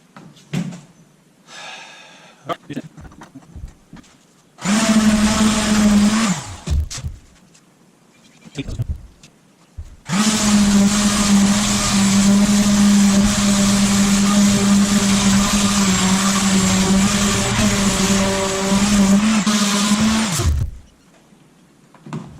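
A power sander works over the wooden handle of a rusty old tool being restored, with a loud steady whir in two bursts: a short run and then a longer sustained pass of about ten seconds, separated by brief handling knocks.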